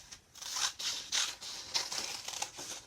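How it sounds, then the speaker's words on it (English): Scissors snip through folded paper for a heart-shaped craft cutout, a quick series of close, crisp cuts with papery rustling between them. "you fold your paper over, you take your scissors"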